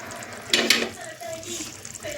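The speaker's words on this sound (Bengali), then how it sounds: "আর ডিমও দিয়ে দেবো" Eggs going into a pan of simmering Bihari-style egg curry give a brief splashing burst, then a soft steady bubbling and sizzle continues at close range.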